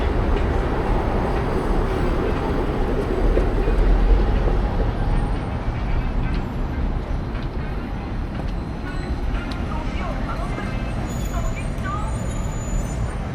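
A steady rumble of a tram passing below in Nagasaki, with rolling wheel noise and faint squeals, continuous and fairly loud throughout, no one speaking.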